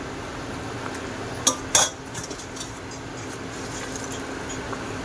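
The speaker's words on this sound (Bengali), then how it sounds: "এবারে মাছ দিয়ে দেবো।" Magur fish drops into a pot of simmering vegetable curry with a couple of sharp metallic clinks, set against a faint, steady kitchen background.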